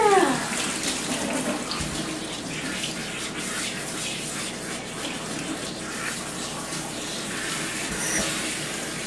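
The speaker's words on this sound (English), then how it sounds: "Okay, we got her rinsed off." Water from a tap runs steadily into a bathtub while a cat is rinsed, a continuous close hiss and splash that holds for the whole stretch with no talking.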